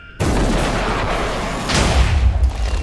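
An Iron Man repulsor or unibeam blast in Minecraft with the Superheroes Unlimited mod: a sudden loud onset into a sustained roaring blast, then a second surge of rumbling energy near the end.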